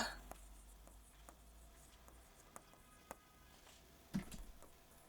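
Chalk or marker writing on a board during a Bengali grammar lesson: faint, sparse taps and short scratching strokes against quiet room noise, with one slightly louder knock near the end.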